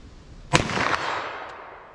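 A single sharp 9mm or .45 ACP handgun shot fired at a silhouette target outdoors, one loud crack with a short echoing tail and no talk.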